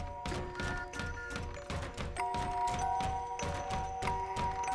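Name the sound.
window banging shut in video game Layers of Fear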